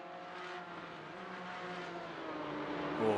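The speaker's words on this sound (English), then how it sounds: "You can hear the tires working overtime to keep that Porsche stuck to the racetrack" Porsche GT4/GT3 race car at Mid-Ohio in iRacing, a steady engine drone with faint tire scrub, heard at low level throughout with no talk.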